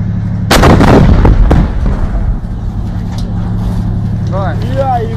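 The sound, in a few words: tank fire on positions in Donetsk, Ukraine war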